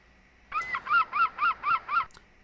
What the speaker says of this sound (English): And one extremely loud bird which you would like to shoot with a shotgun and roast.